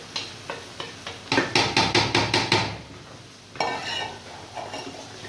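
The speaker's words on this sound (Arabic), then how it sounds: "كده هنضيف بقى الطماطم" Tomatoes go into onions sautéing in a pan, opening with a brief sizzle and then a quick run of about eight sharp scraping stirs, followed by softer sizzling and utensil scrapes.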